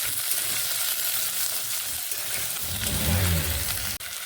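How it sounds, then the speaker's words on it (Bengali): Potatoes and onion fry in a pan with a steady, close sizzle while being stirred, bringing a few scraping clatters near the end; no voices. "পেঁয়াজের সঙ্গে আলুগুলোকেও বেশ ভালোভাবে ভেজে নেব আলুগুলোকে এইভাবে নেড়ে নিচ্ছি"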